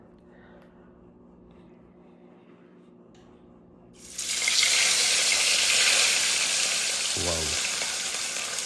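Food frying in hot cooking oil at a night fishing outing, a loud steady sizzle that bursts in suddenly after a quiet stretch and holds to the end, with a brief exclaimed word just before the sizzle starts.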